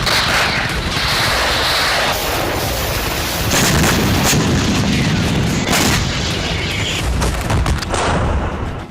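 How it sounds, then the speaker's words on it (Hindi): K9 Vajra self-propelled howitzer artillery of the Indian Army firing: loud, dense rumbling blasts and sharp booms that follow one another closely and fill the whole stretch with no voices. "ताबड़तोड़ बारूद उगलने वाली वॉर मशीन का नाम है K9 वज्र।"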